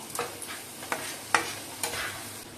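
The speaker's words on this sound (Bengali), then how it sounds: "আমি মশলাটা একটু কষিয়ে নিচ্ছি, তারপরে জল দেব।" A spice paste with turmeric is stirred in a frying pan while cooking posto parse, with a soft steady sizzle broken by irregular scraping strokes of the spoon, fairly close and quiet, with no voices.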